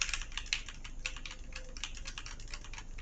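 Rapid, steady clicking of keys on a computer keyboard, picked up by the Fantech Luminous C30's built-in microphone, faint and continuous, with no voices.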